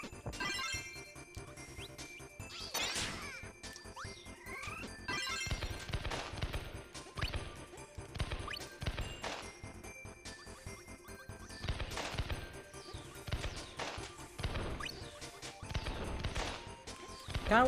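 Fireworks ability in a Kirby video game sets off bursts of crackling explosions, pops and sparkly tinkles with the game's music, repeated crashes coming in clusters throughout and no talk.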